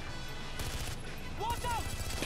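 Gunfire in the video game Far Cry 4: a few loud, sharp shots in quick succession over a constant busy background, with a short tonal chirp of game sound near the end.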